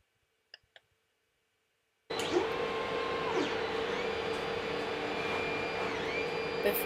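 A 3D printer running a print job that embeds nuts in the part, with steady motor whine, shifting stepper tones and light clicks, close and continuous after a few quiet ticks and a brief silence at the start.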